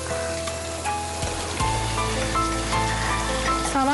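Finely chopped onions frying with garlic in a pan for spicy chicken rice, a steady close sizzle with a tonal hum running underneath and small clinks of stirring.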